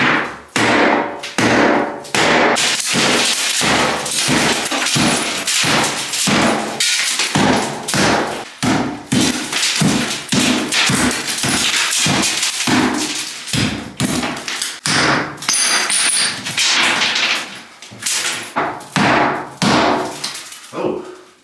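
Repeated loud hammer blows thud and crack at close range in an uneven, relentless rhythm, breaking apart a bathroom wall during demolition.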